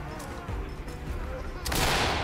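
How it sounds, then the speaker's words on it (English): A flashbang grenade detonates in the video game Ready Or Not, a sudden loud broadband blast with a ringing wash after it, following a stretch of gunfire-like game noise. "Another flashbang going out."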